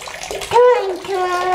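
A toy fish is dropped into a filled bathtub, with soft water sloshing and splashing under a voice talking close by.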